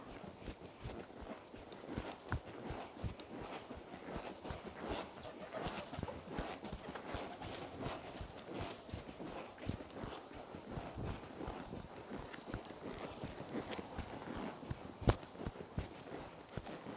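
A horse trots under a rider with a quick, steady run of hoof clip-clops, moderately faint and somewhat distant, over a constant outdoor wash.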